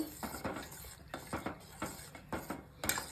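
A utensil stirs a ragi flour mixture into cooked vegetables in a pot for ragi soup, giving six or seven rhythmic scraping clinks against the metal, close up and fairly quiet, with no voices.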